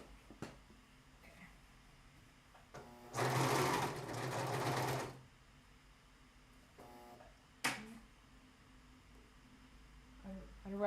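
A sewing machine stitches fabric for a top or dress in one loud, close burst of about two seconds, with quieter handling clicks and brief thread and fabric sounds around it.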